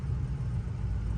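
A 2005 Ford Excursion with a 6.0L Powerstroke diesel pulling away, a low steady engine rumble close by, heard alone without talk.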